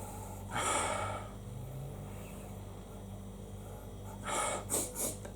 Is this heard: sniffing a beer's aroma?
yes